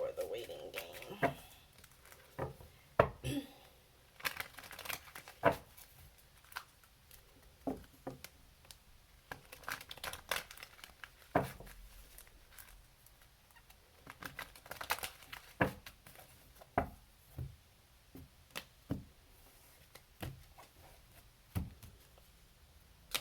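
Soft riffling and tapping of tarot cards being shuffled, irregular crisp flicks and light slaps repeating over a quiet background.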